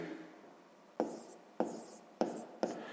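A pen writes numbers on paper during a sixth-grade math exercise, making four short, crisp scratching strokes at roughly even intervals over a faint, quiet background.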